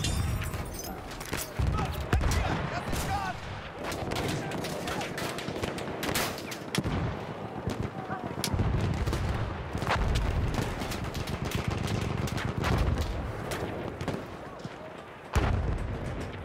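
Gunfire from a Battlefield 1 battle, with bursts of machine gun fire and scattered shots running throughout amid dense combat noise; sharp loud cracks stand out near the start, middle and end, and voices are mixed into the chaos.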